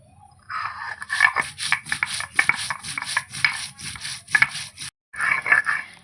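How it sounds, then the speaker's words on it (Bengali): Whole cumin seeds are ground on a flat spice-grinding stone for a goat curry, giving a steady rhythmic series of gritty scraping and crunching strokes, close and distinct, with one brief pause near the end before the grinding resumes. "প্রথমে আমি মশলাগুলো বেটে নেব প্রথমে গোটা জিরে বাটবো"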